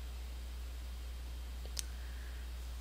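A single sharp computer mouse click on a classroom form page, faint and alone over a steady low hum, with no talking.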